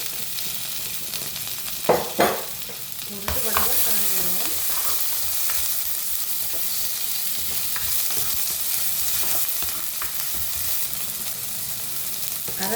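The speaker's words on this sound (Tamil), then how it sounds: "அடுத்தது வந்து வெங்காயத்தை போட போகிறேன் வெங்காயம் கருவேப்பிலை உள்ளி ரெண்டு பச்சை மிளகாய்" Onion, curry leaves, garlic and two green chillies fry in a pan for egg curry, a steady broadband sizzle with a couple of sharp clatters early on as they go in, then continuous crackle and stirring, close and loud, no talk.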